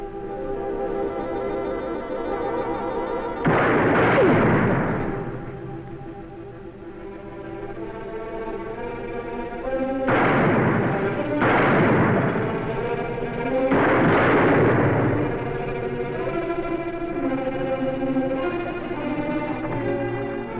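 Gunfire from a gunfight in the western TV series Cheyenne: several heavy shot bursts, one early and a tight cluster later, ring out over a steady orchestral score.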